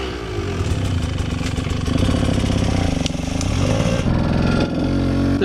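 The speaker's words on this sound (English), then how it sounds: "The 200 is stalling a lot." Enduro motorcycle, the 200, with a jetting problem, its engine running roughly and close by with an uneven loud rumble that sputters and dips as it falters toward stalling.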